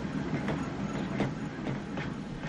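Tram of the Stadtbahn Halle running in Transport Fever, a steady rolling rumble with rhythmic wheel clicks recurring about every half second, close and continuous with no talk.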